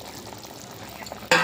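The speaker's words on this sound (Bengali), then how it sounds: "ঝোলটা ভালো মতন ফুটে গেছে" Broth for a thin hilsa fish curry with potato and eggplant bubbles in the pot, a soft close burbling simmer for a brief moment before a sudden louder burst at the very end.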